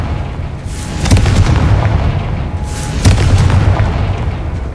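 The Confringo fire spell in Hogwarts Legacy sets off two loud, deep booming blasts about two seconds apart, each a heavy rumbling explosion that rolls on behind with crackling debris.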